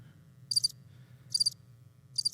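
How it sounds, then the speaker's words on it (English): Crickets chirp in three short, bright bursts spaced evenly apart over a quiet low background hum, fairly close and clear. "you can't turn the crickets off"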